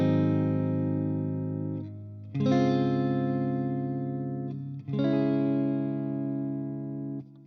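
An electric guitar with effects plays barre chords from a song in three sustained strums, each ringing out with chorus-like shimmer before the next chord change.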